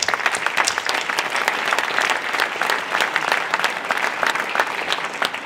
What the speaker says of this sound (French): Et j'aimerais qu'on vous applaudisse,